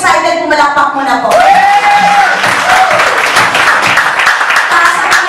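A crowd at a sales orientation bursts into clapping and cheering after an amplified voice, the applause loud and sustained with a brief rising whistle or shout mixed in.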